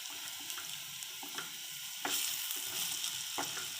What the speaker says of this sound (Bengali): আমি বড়াগুলো উল্টে নিচ্ছি।